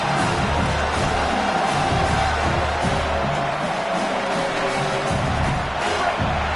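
Home crowd roaring during a third-down defensive stand in an American football video game, a loud, dense, steady wall of cheering that holds without a break from start to finish.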